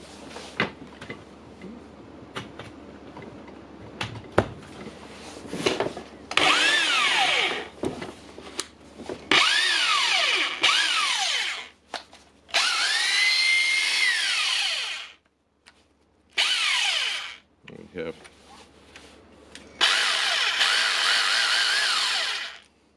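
A Hilti TE 5 rotary hammer drill, just fitted with new brushes, runs in several loud bursts of a few seconds each. Each burst winds up and coasts down, with quiet handling clatter and pauses in between.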